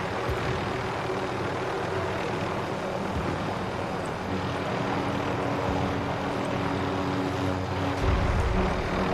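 Steady droning propeller airplane engine in a video game, a continuous broadband hum running the whole stretch with a slight swell at the end, no talk.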